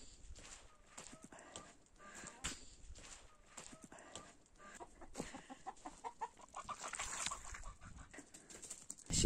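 Chickens on a rainy, muddy farm cluck and murmur in a loose, irregular stream close by, with a few scattered louder squawks and some faint rustling.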